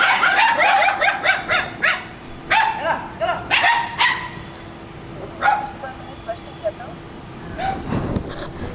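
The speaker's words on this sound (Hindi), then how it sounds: "कुत्ते भौंक रहे थे" Several dogs bark and yip in repeated bursts, some close and some farther off, with short pauses between volleys and a faint whimper near the end.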